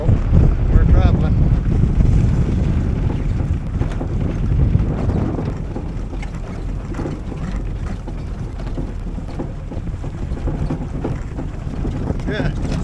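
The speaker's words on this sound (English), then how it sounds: "Lots of bouncing and rattling because the muffler is loose back there." A 1979 Porsche 924 drives along with a loose muffler, a loud rumbling cabin roar of engine and road noise mixed with buffeting wind, rattles and bumps throughout, steadying slightly after the first few seconds.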